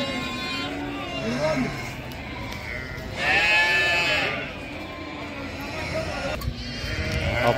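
Sheep bleat repeatedly at a busy livestock market where ewes with lambs are sold, loud and close with several overlapping calls, one long drawn-out bleat standing out, over constant crowd chatter.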